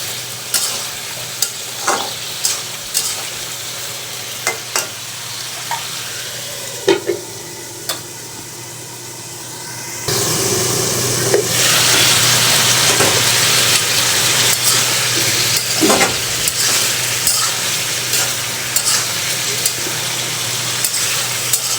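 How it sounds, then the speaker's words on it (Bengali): Vegetable curry stirred in a kadai over the heat: continuous sizzling frying that grows louder about halfway through, punctuated by repeated clattering scrapes of a spoon against the pan, with no voices. "সবজিটা আমি আরও একটু নেড়ে দিলাম।"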